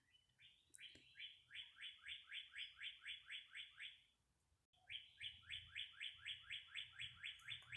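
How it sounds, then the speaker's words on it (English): A small bird repeats a bright, rapid chirping phrase of about a dozen notes, pauses briefly, then sings it again, clear and fairly close over a quiet low hum. "Hear the birds chirping."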